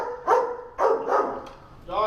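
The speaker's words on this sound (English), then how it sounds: "Yuma is one of 7 German Shepherds on the force" A police German Shepherd K9 barks several loud, close barks in uneven bursts, with a whimpering edge between them.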